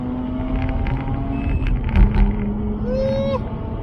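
A 231 bhp Mazda RX-8 accelerates on the road, its engine a steady droning hum that dips briefly as a gear changes, then climbs again in pitch.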